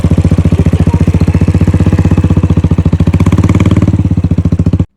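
A motorcycle engine runs loud and close, chugging at a steady idle with rapid even thumping pulses that rise slightly in pace before cutting off abruptly at the end.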